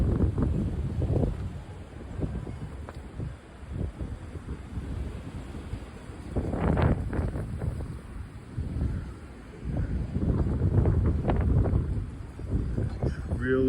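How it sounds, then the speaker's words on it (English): Strong gusts on a cold, windy day roar and buffet the microphone in surging waves, loud and close, with trees thrashing in heavy winds; a voice speaks briefly. "those trees are really dancing in the wind"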